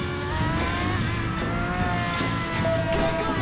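Racing car engine from the game Driver: San Francisco, a steady loud drone with shifting harmonics and brief tire noise, continuous throughout.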